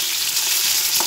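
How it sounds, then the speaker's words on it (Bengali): Fish pieces sizzle steadily in hot oil in a home kitchen, a dense, even crackling hiss held close and loud for the whole moment, with one slightly sharper spatter near the end. "এই যে মাছগুলো ভালো করে ভেজে নিয়ে মাছের ঝাল হবে।"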